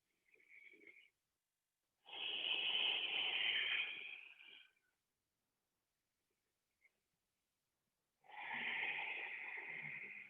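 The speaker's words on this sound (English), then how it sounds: "3 more breaths" Slow, deep breaths during a yoga stretch: a short soft exhale, then a long airy inhale-exhale, a pause, and another long breathy breath, all close and quiet with no talking.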